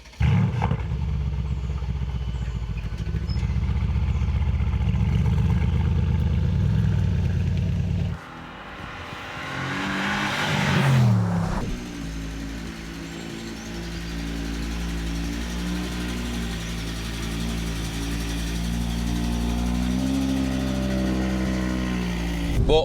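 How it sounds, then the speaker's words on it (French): A Mercedes-AMG biturbo V8 car engine drones loudly at a steady idle, briefly rises in a revving burst, then settles back into a deep sustained rumble, heard close with no talk. "Voilà le cœur de la bête, V8 biturbo."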